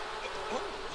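Buzzing of a bee swarm from Sims 4 beekeeping gameplay, a steady droning hum with wavering pitch sweeps near the middle, held at an even level for a single second with no talking.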